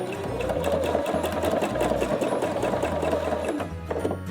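A Pfaff Quilt Expression 720 sewing machine stitches steadily and closely for the whole stretch, a continuous fast mechanical whir with a regular needle rhythm and only a brief slowdown near the end.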